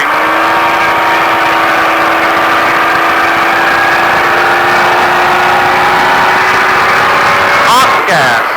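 A Baja truck engine pulls through a long, rising whine close up in the cabin, then a sharp sweep near the end as the throttle changes.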